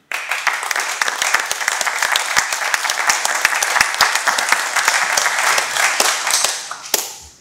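An audience at an innovation-transfer award ceremony gives the finalists a round of applause: dense, bright clapping with distinct individual claps, holding steady before tapering to a few last claps at the end.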